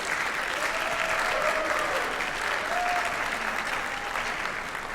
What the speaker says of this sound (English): Students that are here, give your parents a round of applause,